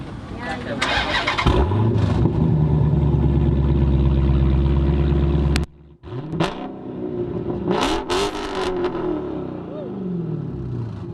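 A car engine with a mid-muffler and no resonator cranks and fires up, then revs loudly with a harsh, aggressive exhaust note and a couple of sharp blips.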